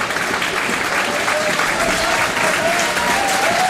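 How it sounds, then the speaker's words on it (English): A football crowd at Macclesfield v Oxford City claps as a substitute comes on, a dense, loud, continuous wash of applause from the stands that holds steady throughout, with a faint voice running underneath. "He gets a clap as well"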